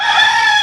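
A rooster crows in a radio advert, a single loud, close, sustained crow that fills the short clip, with no talking over it.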